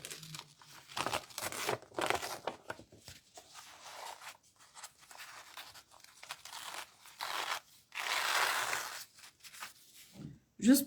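Paper handled and pressed on fabric to dry it quickly, heard as close, intermittent crinkling and rustling bursts with quiet gaps and a brief voice near the end.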